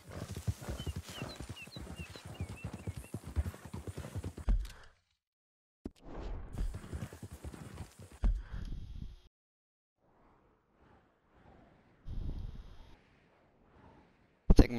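A horse in the video game Red Dead Redemption 2 clops its hooves in bursts of steps, broken by pauses and quiet stretches. A short snort or whinny sounds late in the clip.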